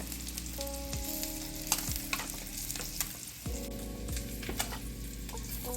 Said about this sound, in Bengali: দেখুন আমার ডিমটা ভাজা হয়ে গেছে আমি তাড়াতাড়ি করে এটাকে তুলে নেব